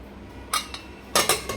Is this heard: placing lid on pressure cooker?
yes